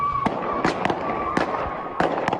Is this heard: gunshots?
yes